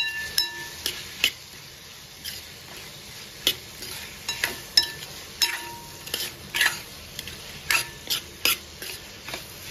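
Tomatoes being sautéed in a pan over low heat for mushroom bhaji, with a quiet sizzle beneath repeated sharp clinks and scrapes of a spoon against the pan.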